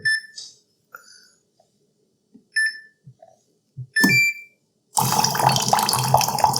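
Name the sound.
hot water dispensing from Waterdrop RO A1 filter into cup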